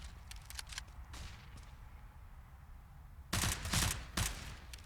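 Desert Eagle pistol shots and gunfire in Counter-Strike on the Overpass map crack out as sharp bursts, a few faint early pops then a loud cluster of shots near the end over quiet game ambience.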